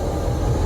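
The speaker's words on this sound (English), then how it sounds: "What a cool train." Yugoslav passenger train running in North Macedonia near Lisice, a loud, steady low rumble and rolling drone heard close from onboard.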